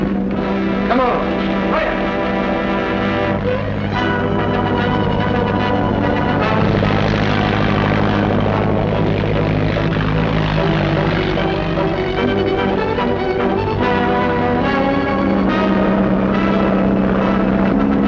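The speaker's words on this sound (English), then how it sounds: "we gotta catch that biplane" Propeller biplane engine in a 1939 setting droning steadily overhead throughout, loud and continuous, mixed with music-like tones and occasional voices.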